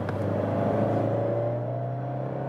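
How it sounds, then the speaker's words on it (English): A turbocharged Fiat 124 Spider convertible accelerates in third gear from around 60, its engine holding a steady, close droning hum with a low rumble beneath. "So let's now accelerate a little bit more, having a 60 and go in third gear."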